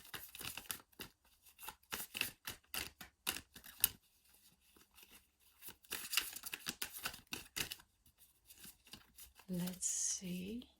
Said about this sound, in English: Continue shuffling.